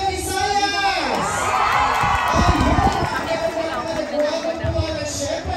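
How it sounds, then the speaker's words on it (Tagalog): A hotel-ballroom crowd at a thanksgiving celebration in Kuwait cheers and shouts loudly, rising into a swelling roar of whoops and clapping, with a voice carrying over the noise. "Magpalakpakan na kasama hiyawan mga taga-Visayas!"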